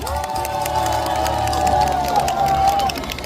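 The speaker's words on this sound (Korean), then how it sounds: "뜨거운 박수 부탁드립니다." A packed crowd at a presidential candidate's street rally outside Yatap Station in Seongnam cheers and applauds loudly and continuously, with whoops and shouts rising over a steady roar and a sustained tone running through it.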